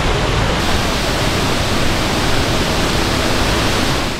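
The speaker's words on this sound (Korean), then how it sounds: "드디어 폭포에 도착했습니다." Cheonjiyeon Waterfall on Jeju Island pours in a dense, unbroken roar of falling water, loud and close, holding steady from start to end with no voices.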